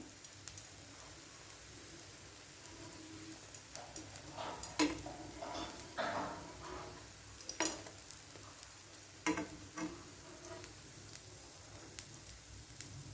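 Sweet potato cutlets frying in a pan on low heat, a faint soft sizzle with scattered scraping and tapping as they are turned, quiet and intermittent.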